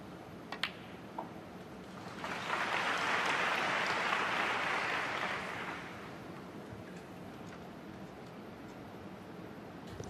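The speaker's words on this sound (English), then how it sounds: "Every pot is being applauded, whether it looks straightforward or not." A crowd at a Hong Kong Masters snooker final applauds a pot, a swell of clapping that rises, holds for a few seconds and fades back to quiet, with a couple of faint ball clicks before it.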